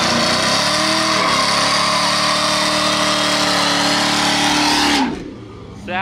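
Loud, close LS-swapped Chevy Blazer with a 4.8 V8 at a drag strip, a sustained hard-revving engine roar that holds steady for about five seconds, then abruptly drops off and rumbles lower.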